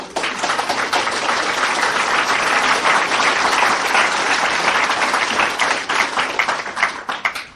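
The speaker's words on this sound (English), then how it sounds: "And you applaud, and so you should" Loud, sustained applause from a large audience, dense clapping filling the room for several seconds before thinning out near the end.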